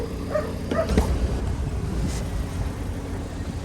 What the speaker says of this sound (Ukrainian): прибився песик до магазину, сидить там 4 дні